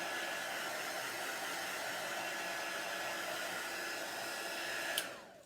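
A hair dryer blows steadily to dry chalk paste on a T-shirt, a loud continuous whooshing hiss close by that cuts off abruptly at the end.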